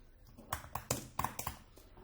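Keys on a computer keyboard click as text is typed into a Final Cut Pro title box, a handful of sharp, irregular taps close to the mic, spaced roughly a quarter second apart, over a quiet background.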